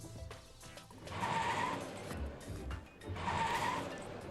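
A car in the game Arknights, its engine making an odd noise, pulls away fast with two broad, loud surges of engine and tire noise, each rising then easing, heard close with no talk over it.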